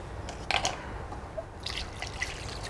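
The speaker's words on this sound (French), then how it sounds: "on va simplement les mettre dans ce plat. On va les recouvrir d'eau" Water is poured over carrots in a dish, giving brief soft splashes and trickles close by, fairly faint against a quiet kitchen background.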